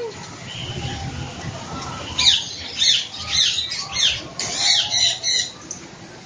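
A bird at a resort gives a series of harsh, loud squawks in quick bursts after a quieter start, close by, with faint background talk.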